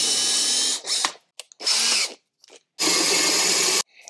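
Close, loud bursts of a power drill boring into a 12-valve Cummins camshaft gear. Three main whining runs are broken by short silences and a few faint clicks, with the last run lasting about a second.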